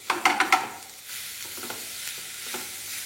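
Onion, capsicum and green chilli cook on a high flame in a pan, starting with a few quick stirring scrapes, then settling into a steady, soft sizzle with occasional light clinks.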